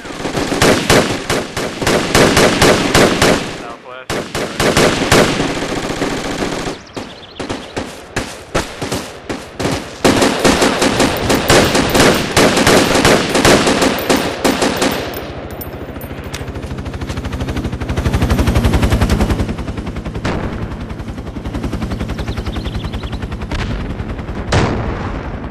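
Automatic machine gun fire in the military shooter Project Reality comes in loud, rapid bursts separated by brief gaps, then gives way to a quieter rumble of distant battle noise and engine drone.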